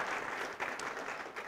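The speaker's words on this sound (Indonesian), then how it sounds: "ya boleh tepuk tangan" A congregation claps during a sermon on faith, producing a soft, continuous wash of distant applause that lasts only briefly.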